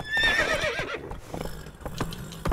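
A horse in The Witcher 3 neighs loudly with a rising, wavering whinny at the start, followed by scattered clip-clop hoof thuds and rustling game sounds.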